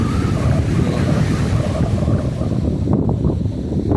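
Sea waves and steady sea wind at Kattankudy beach, a continuous loud roar of surf with wind buffeting the microphone throughout, no voices.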